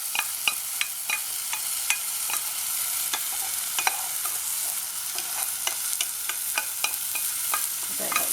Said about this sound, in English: I'm going to stir that in quickly to take some of the heat out.